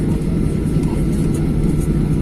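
An airliner takes off from an airport in Malaysia, bound for Suvarnabhumi in Thailand: a loud, steady low engine roar fills the whole stretch without letting up.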